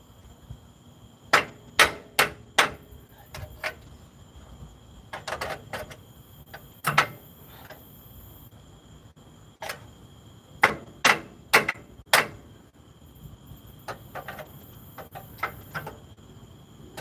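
A hammer hits metal while car ball joints are changed, landing in quick clusters of three or four sharp, ringing blows separated by short pauses, loud and close.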